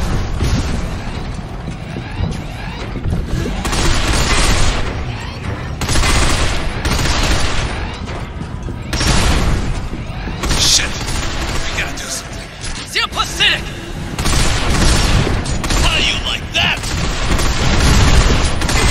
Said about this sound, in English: Hey, are you trying to shoot me?